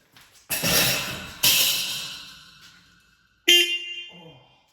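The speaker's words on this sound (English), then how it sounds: "So this one here is the low tone." Low-tone horn on a 1972 Land Rover IIa, sounded in three loud blasts: two close together, then a shorter third after a pause, each a raspy, buzzing honk with a fading tail.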